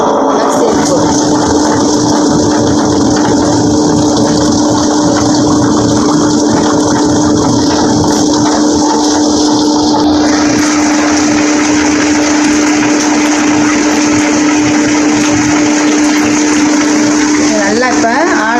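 An electric wet grinder churns soaked ration rice into appam batter, giving a loud continuous motor whine with a steady tonal hum and wet sloshing grind. The tone shifts partway through, and the grinding runs on without pause.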